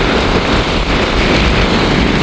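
Storm-driven sea waves surge onto the shore at Keerimalai, Jaffna, pushing water far inland toward the road: a loud, continuous broadband roar of surf and wind with no pause.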